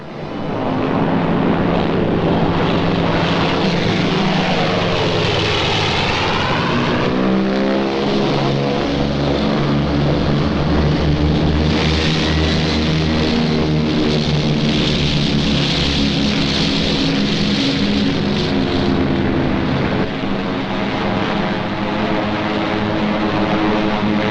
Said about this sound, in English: they would send their bombers to blast it from the face of the earth